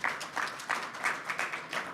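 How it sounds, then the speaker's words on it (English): An audience at a wealth and wellness summit applauding steadily, a dense wash of clapping with slight swells in intensity, continuing throughout. "Please give Prince another round of applause."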